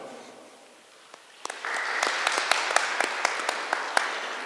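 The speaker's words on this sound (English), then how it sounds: "give a round of applause and thank your parents who are in attendance" Scattered claps from a school audience at a National Junior Honor Society induction ceremony, starting sparse and building into soft, steady applause with distinct individual claps, heard from a distance.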